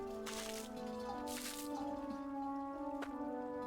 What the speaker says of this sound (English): It is a very loud drip.